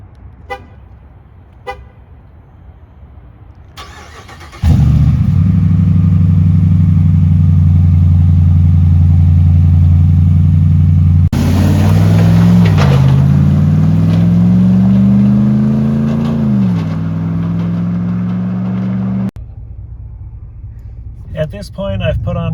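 A 2018 Ram Classic pickup with a Mach 44 Solar Performance catback exhaust idles with a deep drone, then revs and accelerates in a loud, rising roar before settling back. It is close and loud, with brief sounds before and after.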